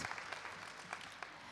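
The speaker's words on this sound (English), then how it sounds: "let us give her a round of applause" An audience at an academic symposium claps in a dense, steady round of applause, distant and fairly quiet, with scattered individual claps standing out.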